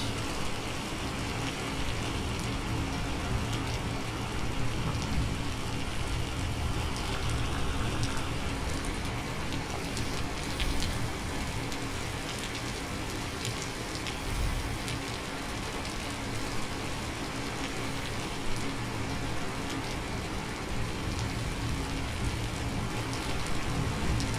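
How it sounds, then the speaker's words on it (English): Rain in the survival game Vintage Story, a dense steady hiss of falling drops pattering on surfaces, constant and moderately loud throughout with no talk. "Oh, that rain."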